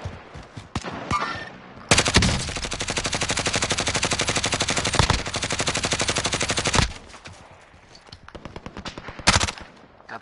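Sustained automatic gunfire in the online shooter Call of Duty Warzone, loud and close, a long dense burst of rapid shots after a few scattered single cracks, then sporadic shots trailing off with another short burst near the end.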